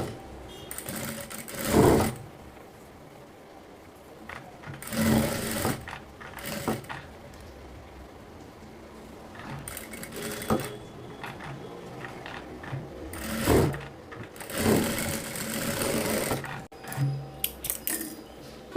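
A sewing machine top-stitches fabric in repeated runs. Each burst of fast, even needle chatter stops, pauses and starts again, close and fairly steady in level.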